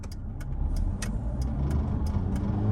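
In-cabin drone of a 1996 Mitsubishi Pajero Jr engine accelerating through the gears on the way to highway speed. A steady low rumble builds toward the end, with a regular ticking click over it.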